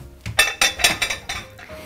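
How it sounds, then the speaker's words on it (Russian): A spoon scrapes grated apple and carrot into a deep bowl, making a quick series of bright metallic clinks and taps against the dish, close and loud with no talk. "Все это отправляю в глубокую посуду."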